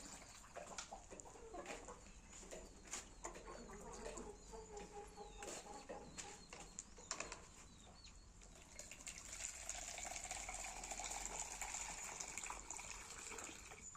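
Free-range country chickens cluck and call in a farmyard while water is poured for them nearby, steady close clucks over a constant rushing background that grows louder in the second half.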